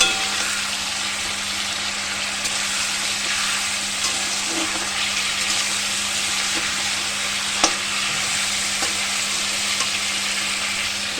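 Chicken pieces sizzle and fry steadily in a pan while being stirred, a continuous close hiss with occasional soft scraping clicks of the spoon.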